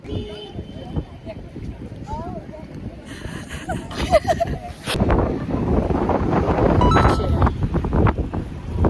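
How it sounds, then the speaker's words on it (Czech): Strong wind gusts buffet the microphone outdoors on a rainy day in Copenhagen, a loud rumbling roar that swells and stays heavy, with bits of voices heard under it. "A mega fouka."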